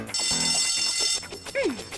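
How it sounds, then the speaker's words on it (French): A cartoon school lunch bell gives a bright, steady electric ring for about a second, stopping abruptly before voices and a rising cartoon sound effect follow. "La cloche du déjeuner."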